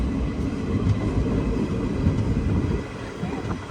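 The Kochuveli Sri Ganganagar Express at a single-platform railway station gives a steady rumbling roar of carriages rolling past, loud and continuous throughout with faint clatter.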